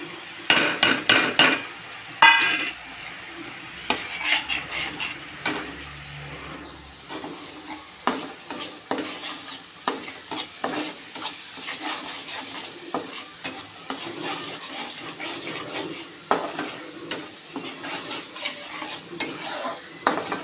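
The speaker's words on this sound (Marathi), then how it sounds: "हा मसाला काढलेला आहे ना आपण, हा टाकून घ्यायचा त्याच्यात" Spice masala for fish sizzling in a pan, with repeated scraping and stirring knocks from a utensil over a continuous fry, close by and without talk.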